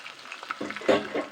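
Fish roe frying in hot oil in a wok, a soft crackling sizzle with brief stirring scrapes, fairly close and moderately quiet.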